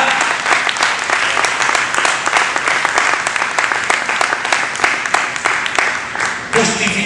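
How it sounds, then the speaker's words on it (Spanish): A church congregation applauding together during a worship service, with steady, dense clapping that fills the room at close range without any break. "Den un aplauso al Señor."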